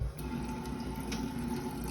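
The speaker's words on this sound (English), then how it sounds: "Sink doesn't have a ton of water pressure, but it's enough." A hotel bathroom sink faucet at a La Quinta Inn near LAX runs in a steady, moderately loud stream with somewhat low water pressure, splashing continuously into the basin for about two seconds with no talking over it.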